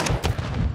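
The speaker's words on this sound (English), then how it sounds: "Throwing a stun grenade." A stun grenade goes off in the video game Redacted, a loud, sharp blast with a rumbling tail, heard close and over in under a second.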